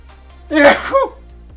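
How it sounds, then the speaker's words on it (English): A single close, sharp sneeze in a quiet room, brief and forceful. "Sneeze alert."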